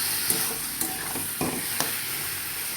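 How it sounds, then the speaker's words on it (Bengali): Boiled taro leaves are stirred in a frying pan with a gentle sizzle underneath, and about four distinct spatula knocks and scrapes come at regular intervals, close up. "কচু শাকটা সেদ্ধ করা ছিল সেটা দিয়ে দিলাম, দিয়ে ভালো করে একটু নেড়ে নেব।"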